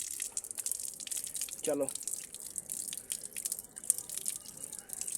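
Water runs steadily from a tap with a hissing rush as hands are washed, with a brief splash in the middle and someone speaking over it.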